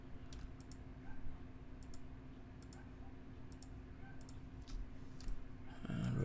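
Soft, quiet computer keyboard taps and mouse clicks come in a sparse, irregular scatter over a low steady hum during UV mapping of modular assets, with a slightly louder shuffle of handling at the very end.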